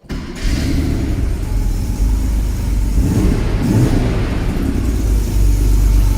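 A 1979 Porsche 930 Turbo engine, already warm, cranks and catches, then settles into a steady, loud, rumbling idle with a slight swell in revs; no voices over it.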